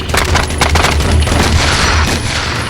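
Dense, loud gunfire in a sniper shootout with terrorists during the Munich Olympic massacre, heard as a rapid crackling fusillade of overlapping shots that continues without a break.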